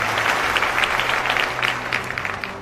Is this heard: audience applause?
yes